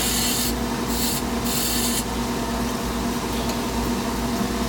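A purple heart wood handle turns on a lathe while a tenon is cut for a 4-jaw chuck, a steady loud whirring hum with bright cutting hiss that comes and goes in short bursts, close and without talk.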